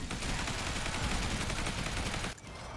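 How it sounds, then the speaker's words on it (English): Gunfire from a shotgun in the Zombie Survivors video game rattles in a dense, continuous barrage of loud shots that cuts off abruptly near the end, leaving a softer din of game effects. "Boom, I love the shotgun."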